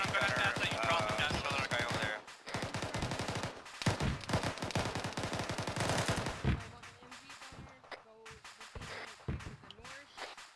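Rapid automatic gunfire in a firefight at a compound, with a machine gunner firing from a rooftop during a dismounted operation. Dense bursts for the first seconds and then a quieter spell with scattered shots, with voices mixed in.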